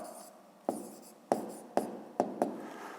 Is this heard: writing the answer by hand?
yes